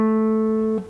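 Finger-picked acoustic guitar note rings loud and steady alone, then is damped abruptly with a soft finger scrape.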